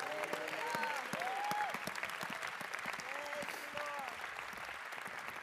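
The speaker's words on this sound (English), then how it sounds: "Everybody, you believe God's done something for somebody today, clap your hands and rejoice." A church congregation at a healing banquet service claps hands together in sustained, steady applause, with a preacher's voice faintly calling out over the clapping.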